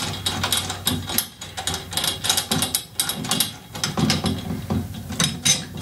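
Drum tension rods are finger-tightened while a tom head is changed, giving close, busy metallic clicking and ratcheting with light rattles, fairly loud and continuous with no talking.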